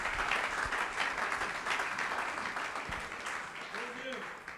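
Church congregation at a Christmas Day service applauding and cheering to acclaim the Lord, lively clapping mixed with shouts and voices, loud and sustained before tapering slightly.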